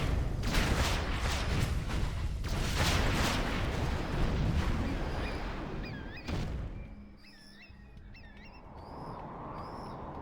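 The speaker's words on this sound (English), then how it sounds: "Tomahawk launcher armed and ready." Tomahawk cruise missiles launching in the game C&C Generals: a heavy roaring rush of launch blasts that rumbles for several seconds, then cuts off, leaving faint electronic chirps and a low hum behind.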